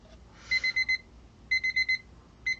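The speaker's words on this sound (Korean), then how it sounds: "타이머가 울렸네요" An electronic kitchen timer beeps in quick bursts of four high tones, repeating in groups with short pauses, fairly quiet and steady.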